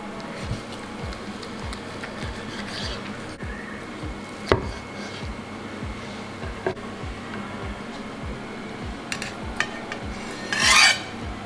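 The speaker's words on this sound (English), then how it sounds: "So I'm just going to, slice the breast" A knife slices through a roasted turkey breast in repeated soft strokes, a regular rasping rhythm of close, quiet cuts with a few sharper taps against the board.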